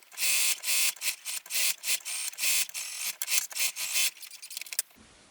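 A sewing machine runs in quick repeated bursts while stitching fabric for a quilted pillow cover made from shirt scraps, a close whirring buzz starting and stopping rhythmically before a final clunk and near silence.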